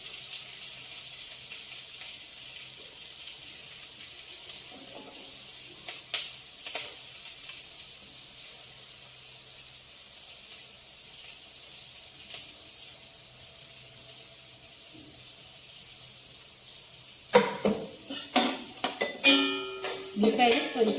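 Sliced onions fry with cumin seeds in a kadai, a soft steady sizzle running throughout before a burst of clattering stirring near the end.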